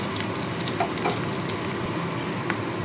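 Garlic and onion fry steadily in hot oil for a fish-head chorchori, a close, continuous sizzle with faint stirring clatter and no talk.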